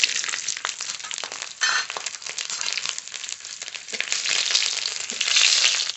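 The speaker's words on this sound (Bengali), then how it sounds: "রসুনটা একটু ভেজে নেব।" Whole garlic cloves frying in hot oil with radhuni seeds, the start of a pui shak curry, crackling and popping in a busy, continuous sizzle that swells and eases, close and without any voices.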